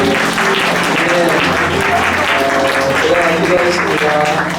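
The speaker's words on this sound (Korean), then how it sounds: "크게 박수 한번 해주시겠습니까?" A church congregation claps loudly and steadily for several seconds, a dense, sustained round of applause.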